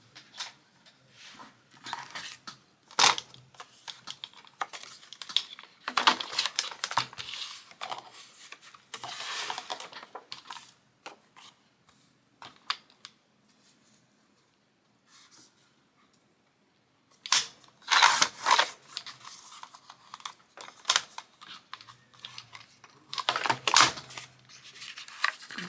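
Scissors cut through a seed packet of paper in quiet, irregular bursts of snipping and rustling, with silent pauses between the cuts.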